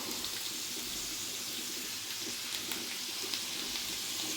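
A steady, dense sizzling hiss of pork fat (salo) frying in hot oil over high gas heat, continuous and fairly close, with faint crackles throughout.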